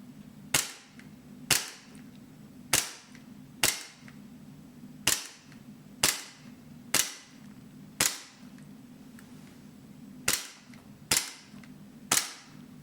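Gas blowback shots from an Army Armament micro Roni gel blaster, about a dozen sharp, loud cracks at uneven intervals, each with a short decay and nothing else heard.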